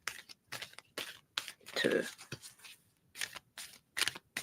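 Oracle cards are shuffled by hand in soft, papery riffling bursts that come in short repeated runs, while a nearby voice counts aloud over and between them.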